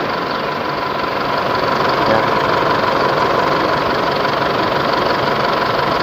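A diesel Isuzu D-Max pickup idling steadily during direct-connection injector cleaning, its loud continuous engine rumble carrying a slight knocking clatter, close up, with no one speaking.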